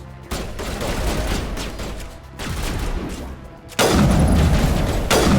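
Loud, dense gunfire bursts from a weapon in the video game Mass Effect Legendary Edition, continuous rattling volleys with short gaps, growing heavier near the end.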